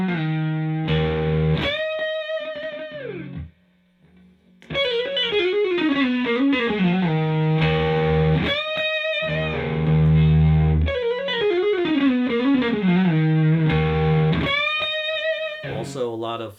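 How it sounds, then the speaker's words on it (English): Distorted electric guitar played through a compressor pedal, sustained notes and quick melodic runs, smooth and even in level, with a brief pause near the middle. "the compressor pedal is great for that"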